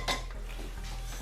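A metal pot of water with chicken in it is set down on a stove's back burner with a single clanking knock at the start, followed by quiet kitchen background hum.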